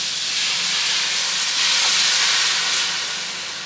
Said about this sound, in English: I'm using an entire bottle of Dragon to deglaze the pot.